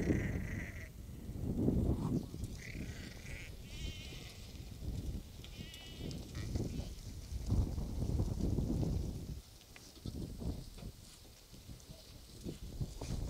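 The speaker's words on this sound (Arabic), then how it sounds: "خروف ربي يبارك، اثنين مليح صح، سمين" Fat Ouled Djellal sheep bleat repeatedly at close range over a busy farm background of shuffling and movement, with calls overlapping at irregular intervals.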